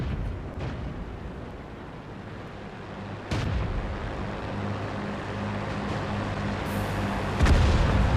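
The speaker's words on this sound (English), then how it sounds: "I'm just going to take a cheeky shot at this VK" Tank cannon fire in World of Tanks, with two heavy booming shots, one near the middle and one near the end, rising over a steady low engine rumble.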